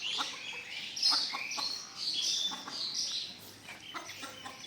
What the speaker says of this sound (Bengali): এগুলো হলো টাইগার মুরগি এবং মোরগ কিছু সংখ্যা আছে